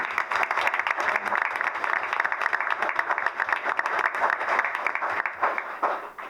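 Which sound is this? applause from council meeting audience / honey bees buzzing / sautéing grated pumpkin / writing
applause from council meeting audience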